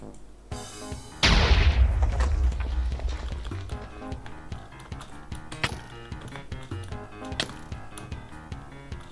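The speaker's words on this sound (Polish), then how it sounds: "Ale gdzie ten fireball wybuchł?" A loud burst of a fireball explosion in a Bedwars video game erupts early, followed by a busy stream of sharp in-game impacts and clatter with a rapid, uneven rhythm.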